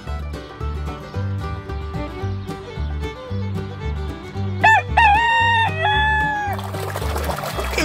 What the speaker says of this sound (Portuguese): É o galo.